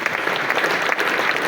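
Steady, dense applause from an audience, a continuous wash of many hands clapping at even volume throughout.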